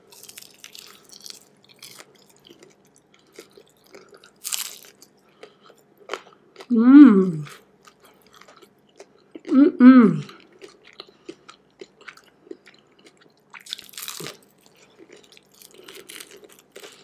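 Crispy Taco Bell chicken wings being eaten close to the mic, with sparse crunchy bites and quiet chewing amid near-silence, plus two short hummed vocal sounds between bites.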